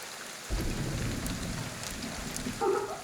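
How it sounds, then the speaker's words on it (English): Steady video game rain patters and hisses as it drips through a ceiling indoors in Ghostwire: Tokyo, starting suddenly and continuing evenly, close and fairly loud, with a few brief higher tones near the end. "It's raining through the ceiling. A very drippy ceiling."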